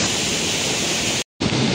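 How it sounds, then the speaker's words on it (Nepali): Light rain falling along a mountain trekking trail in Nepal, a dense, even hiss close to the microphone that cuts out briefly near the end before resuming. "थोरै पानी पऱ्यो,"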